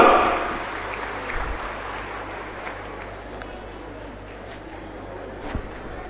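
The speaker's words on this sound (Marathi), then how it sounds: "वाजवा टाळ्या जोरदार" Applause at a municipal election campaign rally in Udgir, a dense, steady wash of clapping that starts loudest and continues evenly for several seconds, with a faint voice underneath.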